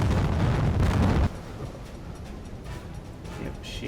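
A deep, heavy explosion roar from torpedo hits on ships in a U-boat video game attack on an Arctic convoy, loud and rumbling for about a second before cutting to a softer low rumble.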